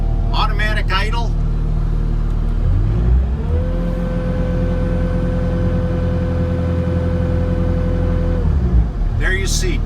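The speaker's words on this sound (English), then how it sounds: "There you see, I cracked the throttle up and it automatically responded." A 2015 Bobcat S570 skid steer with high flow and automatic idle sits at a steady diesel idle, then throttles up to a higher, even drone and settles back down, with someone talking briefly at the start and end.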